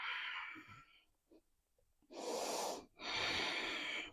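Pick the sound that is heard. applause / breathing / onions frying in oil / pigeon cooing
breathing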